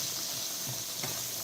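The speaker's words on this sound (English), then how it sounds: "I'm just sauteing them a bit." Chopped vegetables sauté in a pan for pasta, giving a soft, steady sizzle with faint stirring sounds, quiet and alone.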